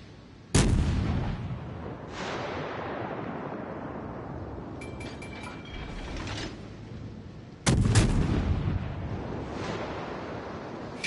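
Heavy battleship main guns firing in World of Warships: Legends, two deep booming salvos several seconds apart with long rumbling decay, and faint mechanical clicks between them.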